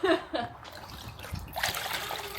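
A small amount of water is poured out in a brief splashing trickle, heard close by amid faint voices and a bit of laughter.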